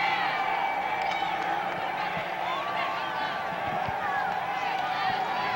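A high school football crowd cheers for the Welsh Greyhounds in a game against the Coushatta Choctaws, a continuous roar of distant voices and whoops under a close commentator's voice.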